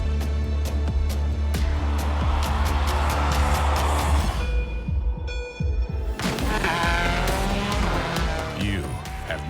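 A race car drives hard with a loud, sustained engine roar, rising and falling revs, and a brief lull before the engine picks up again, all close up.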